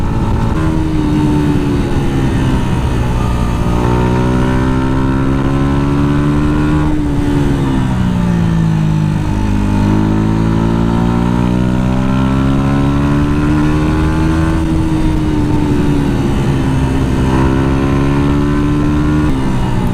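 A Yamaha MT motorcycle fitted with an Akrapovic exhaust rides a mountain pass road, its loud, close engine note rising and falling through repeated gear changes and throttle sweeps for the whole stretch, with no talking.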